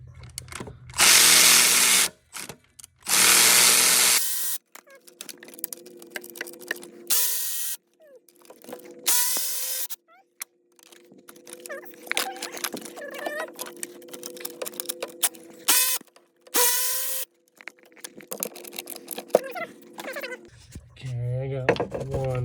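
A ratcheting wrench loosens 8 mm bolts during a supercharger install on a 2020 Jeep Grand Cherokee, giving rapid close clicking bursts between short pauses, with loud whirring tool runs and someone talking.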